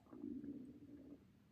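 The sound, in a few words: stomach rumbling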